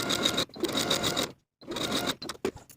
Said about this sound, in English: we're going to sew basting stitches from notch to notch along the top of the sleeve